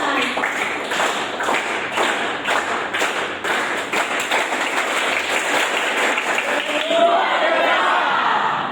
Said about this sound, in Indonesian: Kita tes dulu, kita mulai, silakan tepuk tangan